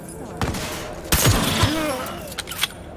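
Gunshots in the video game Cyberpunk 2077: a few sharp, loud shots in quick bursts, with a heavy blast near the middle, over game effects and a voice talking.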